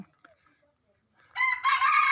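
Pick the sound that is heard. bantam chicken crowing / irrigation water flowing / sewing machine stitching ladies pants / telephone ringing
bantam chicken crowing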